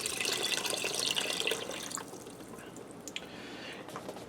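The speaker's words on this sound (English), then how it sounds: "I'm going to add in 4 cups of chicken broth. And I'm rinsing the garlic down off the side of the pot as I dump it in there." Chicken broth poured into a pressure cooker pot and washing garlic down its side, a steady close splashing pour that eases after two seconds into lighter trickles and drips.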